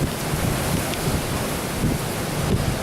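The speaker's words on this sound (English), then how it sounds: "The wind's coming out of the north" Strong wind storm in Cal-Nev-Ari, Nevada, a loud continuous roar and rumble of gusts buffeting the microphone, steady throughout with slight surges, no talk.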